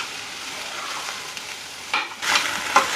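Chopped onions fry in oil as they are stirred, a close hissing sizzle that grows rougher toward the end with a couple of quick scraping strokes through the pan.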